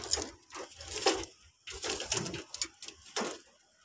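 A homing pigeon arrives back at its loft: quiet bursts of wing flutter and scuffling come in uneven clusters, close by, with brief pauses between.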